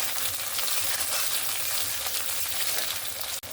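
Sliced tomato goes into a pan of frying onion and green chilli for a fish curry with kohlrabi and potato, giving a loud, steady, close sizzle that continues without a break and without talk.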